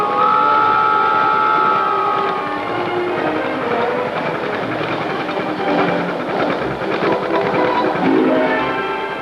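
A model train, built as an exact replica of full-size American railroad trains, rolls steadily across a trestle with continuous rumbling and clickety-clack and a sustained whistle-like tone early on, loud and close throughout.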